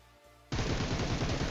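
Rapid automatic gunfire from the PUBG video game erupts suddenly after a quiet moment, a loud, dense burst of shots continuing to the end.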